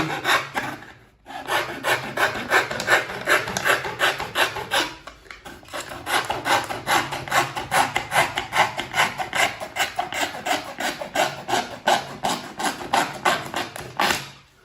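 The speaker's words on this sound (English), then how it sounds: "Just roughly cutting that shape out because we're neating it all up at the end." Hand saw or rasp roughly shaping a shoe sole in a farrier's workshop, a steady rhythmic rasping of repeated strokes, close and loud, with two short pauses.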